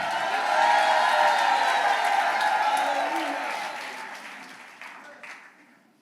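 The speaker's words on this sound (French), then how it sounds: "You should be shouting." Church congregation applauding with cheers and shouts, a dense broadband wash of clapping that stays loud for several seconds and then gradually fades out.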